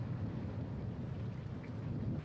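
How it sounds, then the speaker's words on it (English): Heavy rain pours steadily through a thunderstorm, with low rolling thunder rumbling beneath a dense, continuous hiss of falling water, with no speech present. "Lightning is one of the weather hazards that always accompanies thunderstorms."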